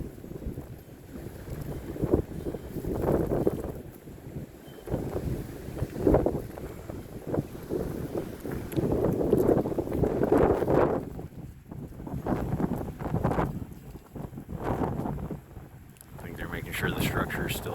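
Heavy storm wind gusting in Hamilton amid falling trees and downed power lines, a loud continuous rumble and buffeting that swells and eases in waves, close to the microphone, with some voices faintly underneath.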